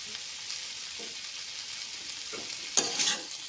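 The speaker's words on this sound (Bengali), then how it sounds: "হলুদ গুঁড়ো দিয়ে মিশিয়ে নেব।" Turmeric powder being stirred into bottle gourd leaves frying in a pan, with a steady soft sizzle and a few scraping stirs near the end, close by and fairly quiet.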